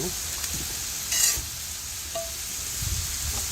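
A metal spatula scrapes across a Blackstone flat-top griddle to clear a spot, with short scraping strokes over a steady background sizzle of cooking chicken fajitas.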